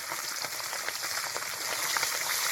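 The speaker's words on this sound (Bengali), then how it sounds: "মাছগুলো আমি ভেজে নিচ্ছি" Pabda fish fry in hot oil with a fairly quiet, even sizzle and light crackling that builds slightly over a couple of seconds, heard close with no speech.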